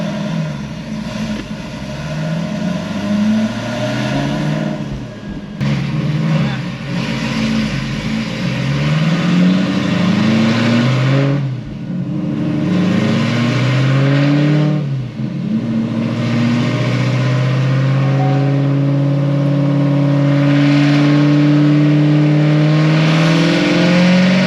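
A sixth-generation Chevrolet Camaro SS V8 with upgraded heads and cam runs on a chassis dyno, its loud engine note climbing through several rising sweeps as it builds revs, then holding a high, droning pitch.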